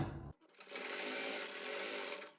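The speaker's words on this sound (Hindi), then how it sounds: "आपको क्या करना होगा, इस मार्किंग पे सेम सिलाई लगा लेनी होगी।" A sewing machine stitching fabric along a marked line for a boat neck design, a short clatter at the start, then a steady, close whirring run.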